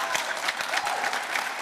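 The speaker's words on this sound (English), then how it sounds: "let's hold the applause so that we could get the answers through" An audience at a mayoral candidate forum claps steadily and densely for a brief moment, filling the room with scattered, even applause.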